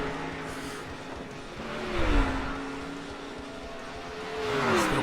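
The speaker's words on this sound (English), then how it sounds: "We got racing going on, ladies and gentlemen" 360 sprint race cars practice on a dirt track, engines whining and revving as they circle at a distance, with rising and falling pitch sweeps and a louder pass near the end.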